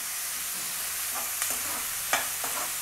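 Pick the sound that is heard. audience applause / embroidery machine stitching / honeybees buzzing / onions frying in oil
onions frying in oil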